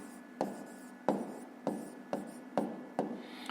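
A pen writes an answer by hand on paper for a 5th-grade math exercise: six rhythmic strokes, each starting with a sharp scratch and trailing into a softer rasp, close and alone.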